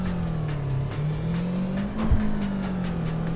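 A 2017 Ford Focus RS engine holds a steady loud hum while its tires squeal through a turn, with a brief sharp thump near the end and sustained high tire noise throughout.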